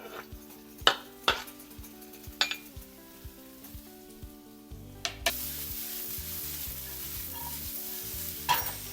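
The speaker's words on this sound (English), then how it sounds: "saute this coconut and onion on ghee" Coconut and onion sautéing in ghee in a pan for Agri-Koli style mutton, with a soft continuous sizzle, scattered spoon scrapes and clinks against the pan, and a louder frying hiss later on.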